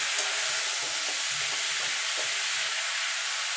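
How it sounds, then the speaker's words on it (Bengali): Vegetables for a light vegetarian jhol curry fry in a pan with a steady, close sizzle and a few soft stirring scrapes, and no talking. "এবার এটাকে ঢাকা দিয়ে আরও মিনিট খানিক আমি ভাজা করে নেব।"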